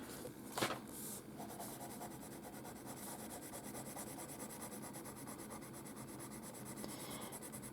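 Yellow colour pencil rubbed hard against paper makes a faint, steady scratchy stroking, continuous and close, with no talking.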